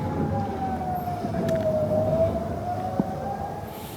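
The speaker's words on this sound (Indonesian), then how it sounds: "sirine peringatan serangan Iran berbunyi tanpa henti di kota Eilat, Israel" A long, steady air raid warning siren in Eilat, Israel, wails continuously during an Iranian attack, holding a sustained tone with a slow rise and fall over a constant background rumble.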